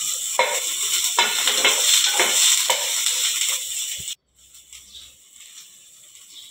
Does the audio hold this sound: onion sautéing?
yes